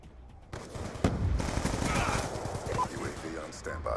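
Rapid automatic fire from the PDW submachine gun in Black Ops 2, a dense sustained burst starting abruptly and running continuously up close, with game effects layered over it.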